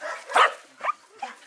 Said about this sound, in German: Schaut mal, die Welpen.